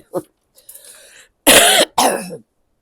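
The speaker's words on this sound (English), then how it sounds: "Sorry for coughing." A person with a sickness bug coughs in several sharp, close bursts: a small throat clear, a rough hacking cough, then two loud, harsh coughs in quick succession before silence.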